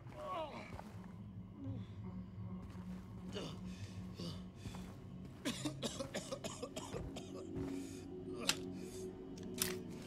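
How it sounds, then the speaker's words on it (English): A man hacks out harsh coughs in the video game Silent Hill 2 Remake, with a rough cough early on followed by a cluster of sharp, rasping bursts later, over a low droning background. "It's hacking a nasty cough"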